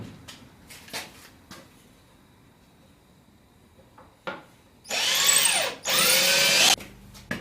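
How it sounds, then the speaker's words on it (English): A power drill drives screws through a wooden drawer box into a kitchen cabinet drawer front, giving two loud sustained whirring bursts near the end after a few soft knocks and handling clicks. "I'm going to drill 1, 2, 3, 4 holes, sink the screws in"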